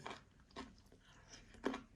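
Up-close chewing of crunchy pickled cucumbers makes three or four moist, crisp crunches spaced across a couple of seconds, quiet and without any talk.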